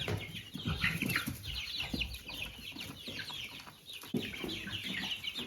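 Young chicks in a brooder pen, including Jersey Giant and Crested Dominant birds, cheep continuously in a dense overlapping chorus, with scattered louder peeps and soft clucks close by.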